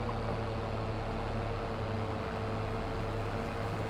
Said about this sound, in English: This is going to test this tractor now.